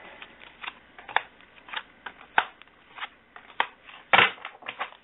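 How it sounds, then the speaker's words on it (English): Tarot cards riffle-shuffled by hand in a series of crisp, papery bursts with short pauses between them, one louder flurry near the end, recorded fairly close in a quiet room with no talking. "let's shuffle these up"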